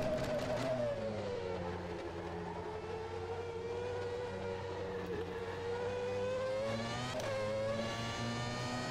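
McLaren F1 race car engine lapping in rFactor 2, a close, continuous high-revving wail whose pitch rises and falls through gear changes and corners, with a sharp shift blip near the end and no voices.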